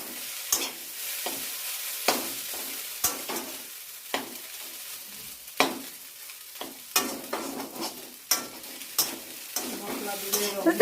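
Fish frying in oil in a pan, with steady sizzling and repeated sharp clatters of stirring throughout, close and moderately loud, with no talk.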